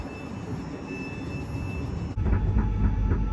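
Train ride toward London, with a steady rumbling rail carriage interior and low rolling noise that grows louder and heavier partway through, with rhythmic clunks near the end.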